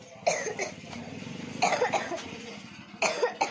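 Three bursts of coughing, close and fairly loud, separated by short pauses.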